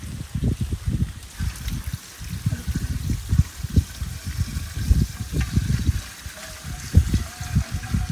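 Water poured into a pot to boil snails for a village meat gravy, an uneven splashing, gurgling stream with bursts and lulls that carries on close and clear throughout.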